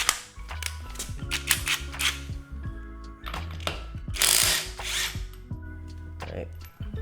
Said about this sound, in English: I could probably hit it with the impact a little longer. So let's do a couple more lug nuts